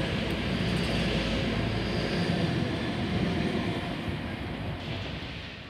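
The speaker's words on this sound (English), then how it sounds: "It's a B-set passing platform. I think it's approaching or passing platform number 1." A B-set passenger train rolls past a platform at Rhodes station with a loud, steady rumble and rail roar that holds close throughout, then eases slightly toward the end.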